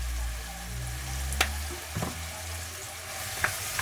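Salt and turmeric stirred into a pickle mixture, heard as a continuous close sizzle with a low hum beneath and a few distinct spoon scrapes and taps.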